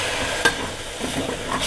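Onion frying in oil in a pot for a bean and pasta soup, a steady close sizzle broken by a sharp stir or scrape, with a few fainter stirring clicks later on.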